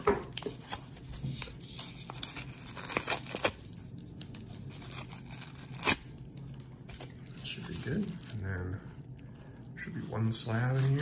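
A mail package holding a graded baseball card slab is cut and torn open at close range, with intermittent tearing, crinkling and rustling of packaging, plus a few sharp snaps and louder bursts near the end.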